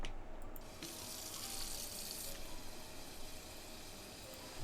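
A tap running in Cleaning Simulator as a sponge gets washed, a steady hissing stream of water that starts after a brief quiet moment and keeps flowing, soft and even, with no voices.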